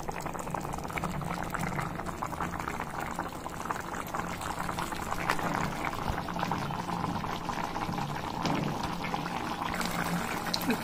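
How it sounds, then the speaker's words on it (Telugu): Rayalaseema style sambar simmers in a pot, a steady close bubbling and gurgling with soft liquid churning throughout. "ఒక 10 మినిట్స్ ఉడకాలి."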